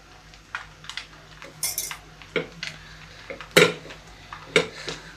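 A spoon stirs rice with turmeric in a metal pot, giving scattered clinks and scrapes of varying loudness, a few sharp knocks against the rim, with no voices.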